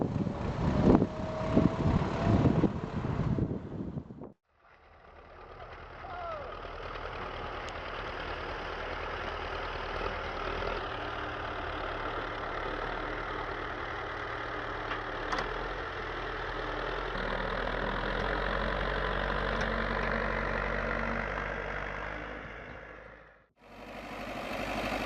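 An MTZ-82 tractor engine runs steadily outdoors in a snowy field, a loud continuous drone with a rough knocking texture that holds for about twenty seconds between brief pauses.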